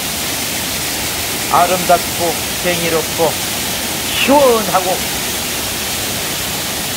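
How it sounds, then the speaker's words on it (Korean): A powerful waterfall in Naeyeonsan valley roars as a constant, broad rushing wash close by, while someone talks over it in short bursts. "폭포수가 굉음을 울립니다."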